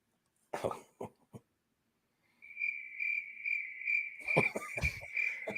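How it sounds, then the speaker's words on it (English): Cricket chirping sound effect, a steady, high pulsed trill that starts partway through and continues to the end, preceded by a few short coughs or throat-clearing bursts and with more coughing over the chirps. "Crickets."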